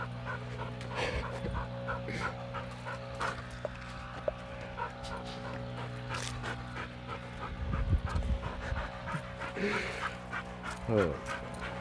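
Heavy, fast panting from a dog out on a walk stays close and continuous, joined by brief whimpers or yips near the end while a person talks.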